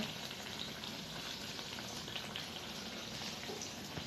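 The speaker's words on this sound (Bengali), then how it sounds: "আমার বেগুনিগুলো সব ভাজা হয়ে গেছে" Eggplant fritters (beguni) deep-frying in oil make a steady, even bubbling sizzle, fairly faint and continuous throughout, with no speech.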